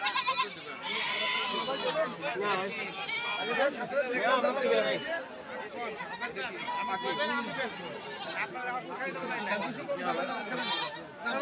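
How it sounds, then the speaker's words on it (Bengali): Many goats bleat at the crowded Sonapur goat market in Rajbari, Bangladesh, with repeated overlapping cries near and far over a constant hubbub of people talking. "দেখেন অসংখ্য ছাগল উঠছে আজকে হাটে অনেক ছাগল উঠছে"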